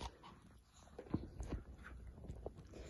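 Pet dogs whimpering and panting while getting treats, with soft close-up whines, short sniffs and shuffling paws; no one speaks.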